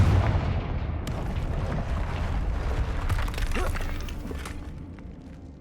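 Confringo fire spell blast in Hogwarts Legacy: a deep, rumbling explosion that starts loud and slowly fades over several seconds, with crackling debris and sharp bursts layered on top, and no talking.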